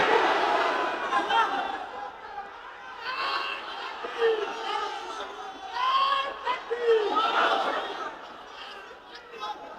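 A crowd of young men at an Islamic gathering shouts takbir together in loud, overlapping waves of voices, rising and falling several times under a speaker's talk.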